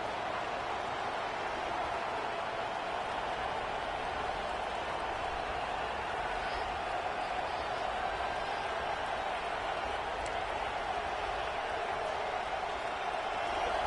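A stadium crowd in the College Football 26 video game cheers as a steady, dense roar. It stays even and unbroken throughout, with no distinct claps or peaks.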